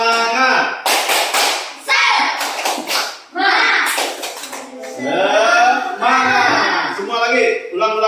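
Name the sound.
group doing the rhythmic tepuk semangat clap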